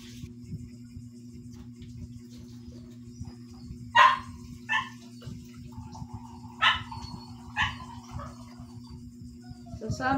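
Dogs bark in several sharp, separate bursts over a steady low hum, with a nearby voice talking intermittently between the barks.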